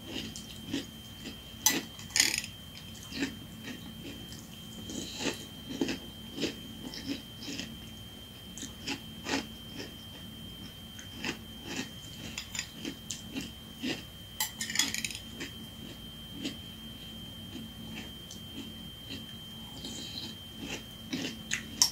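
Crunchy breakfast cereal chewed close to the mic, a steady run of crisp crunching bites over about twenty seconds against a faint constant hum.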